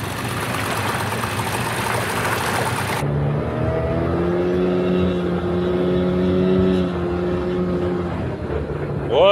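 An outboard motor drives an inflatable jon boat at speed, a steady, loud engine drone with rising and falling harmonic pitch, preceded by a burst of broadband rushing noise in the opening seconds.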